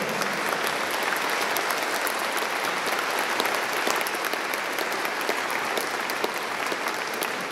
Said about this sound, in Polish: Dlatego jeszcze raz wielkie brawa